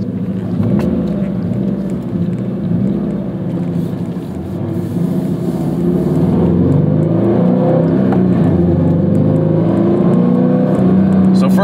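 Turbocharged first-generation Subaru BRZ accelerating hard, its loud exhaust droning and rising steadily as the turbo spools, heard close and continuous throughout with no talk over it.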